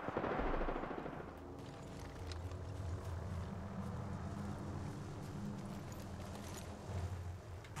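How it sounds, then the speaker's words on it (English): Gunfire in the video game Apex Legends comes from one building, rapid automatic bursts at moderate distance over a steady background rumble. "You see, I assume you see all the gunfire from this one building."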